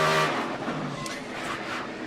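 A race car at Texas in 2010 with its right rear tire disintegrating gives a loud, roaring engine drone that swells and fades slightly over about two seconds.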